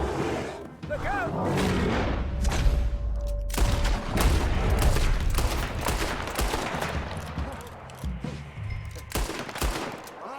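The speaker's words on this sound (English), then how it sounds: "Why are you shooting at thin air?" Gunfire in the video game Red Dead Redemption 2, with dense bursts of rapid shots and booming reports coming in clusters throughout, as voices call out over the shooting.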